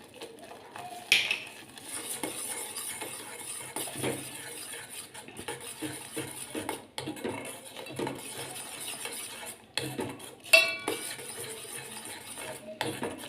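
Pizza sauce with mixed herbs and paprika being sautéed and stirred in a pan, quiet and close, with a faint simmer under intermittent metal spoon clinks and scrapes against the pan, a couple of louder knocks, no voices.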